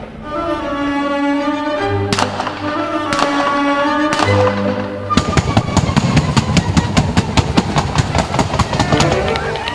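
Paint cannons fire on an outdoor advert shoot in a long, rapid string of sharp bangs and pops. A sustained tonal drone comes first, with a few separate blasts, then a dense crackling barrage.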